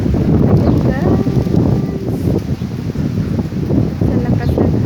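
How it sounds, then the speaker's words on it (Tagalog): Strong, cold wind blowing during a sandstorm, roaring steadily and close against the microphone, with faint rustling throughout. "Sa lakas ng hangin."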